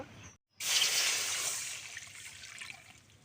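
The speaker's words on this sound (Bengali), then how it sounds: "কড়াতে দিয়ে দেবো জল ডিম সিদ্ধ করার জন্য" Water pours into a wok on the stove before eggs are boiled, a brief bump and pause followed by a steady splashing rush that slowly tapers to a softer trickle.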